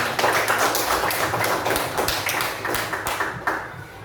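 Primary school class clapping hands together in a classroom, a quick burst of sharp, close claps that tapers off toward the end.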